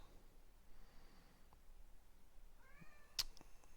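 A pet cat gives a short meow near the end, faint over a soft background hiss, preceded by a snort and quiet breathing sounds.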